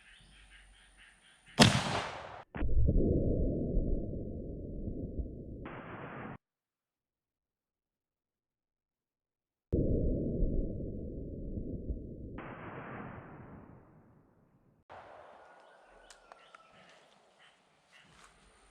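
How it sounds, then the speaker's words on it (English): A .50-110 Winchester lever-action rifle fires a 450-grain bullet outdoors, giving one sharp loud report followed by a rumbling decay, then a second burst of similar rumbling later, with the sound cutting in and out. "gonna send another one of these 450 grain bullets down range"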